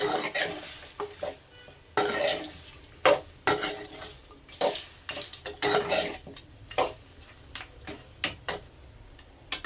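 A spoon works through mutton gravy in a pan, with distinct scraping strokes and metallic clicks against the pan about once a second over a soft background sizzle, up close.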